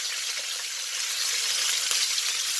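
Pork pata skin browning in a pan for humba, giving off a close, steady, dense sizzle of frying fat that carries evenly throughout with no voices.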